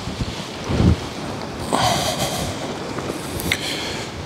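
Strong gusts of around 40 mph from Storm Bert buffet a backpacking tent, giving rough bursts of wind rush and flapping fabric that swell and fade over a constant blustery background.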